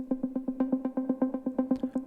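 A repeating synth arpeggio built from Ableton's Wave Filter pad preset in a melodic techno track, with steady evenly spaced notes pulsing on one low pitch and a brief bright flicker near the end, heard alone.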